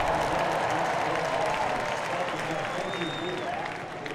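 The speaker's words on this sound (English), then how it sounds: "Here's the crowd." A large stadium crowd at an Ohio State football game cheers and claps in a sustained, even wash of noise, heard from a distance for several seconds before easing slightly at the end.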